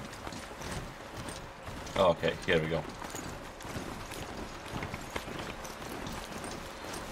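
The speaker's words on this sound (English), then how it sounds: "the horse is kinda hard to control." A horse gallops in Horizon Zero Dawn, its rhythmic hoofbeats running steadily underneath a man's speech, with a brief louder section of talk partway through.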